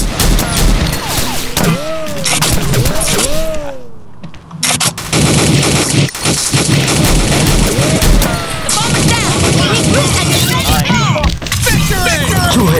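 Dense automatic gunfire and bursts of shots in the video game Mission Against Terror, loud and nearly continuous with a brief lull, while voices speak over the combat.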